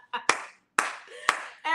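A few people clap in three quick bursts, each a sharp cluster of hand claps that fades before the next, up close during a lively podcast taping.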